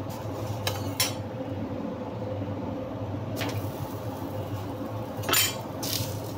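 Aloo parathas being packed into a tiffin box, with a few brief clinks of metal and dish contact over a steady low kitchen hum, the clatter sparse and fairly quiet.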